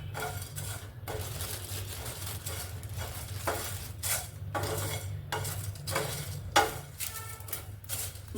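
Dry spices, including black pepper and kasuri methi, are roasted together in a pan, heard as a soft, continuous crackle with repeated scraping and clinking of a spoon against metal in uneven bursts.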